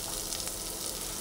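Onions fry in a pan with a constant, even sizzle, a soft close hiss with no voices over it.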